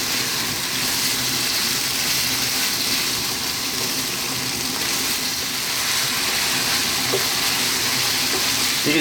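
Fish and vegetable noodles are stir-fried in a pan while the water cooks off, giving a continuous hissing, watery sizzle at close range with faint scrapes from stirring and no talk.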